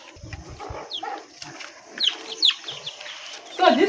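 Chickens and turkeys cluck and chirp inside their coop at close range, with short bird calls scattered irregularly over a few seconds and a louder burst near the end.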